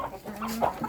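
A hen gives a few short clucks close by in a quiet moment.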